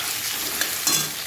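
Chicken frying lightly in a pan, a short burst of steady sizzling with a brief stirring clatter near the end, no talk.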